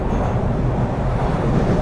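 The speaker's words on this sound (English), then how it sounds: "So this is the TTC subway. This is the old train." An old TTC subway train in Toronto heading westbound, a loud, continuous low rumble of wheels and motors heard from inside the car, with no talking.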